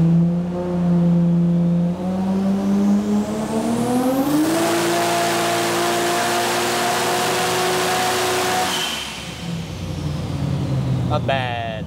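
Nissan R33 Skyline with an RB26/30 engine on a dyno doing a full-power run: a loud continuous engine roar climbing steadily in pitch, then the throttle lifts and it drops back down with some crackle.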